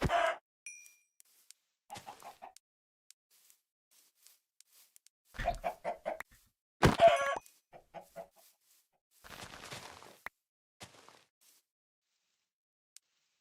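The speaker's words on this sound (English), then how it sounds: "Hello, chickens." Chickens in the video game Minecraft give short, separate clucks in a quiet scene, with a few sharper blips between them.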